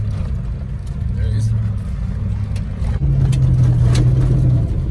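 Car driving along a dirt road on a Baja road trip, with a steady low engine and road rumble heard from inside and people talking over it throughout.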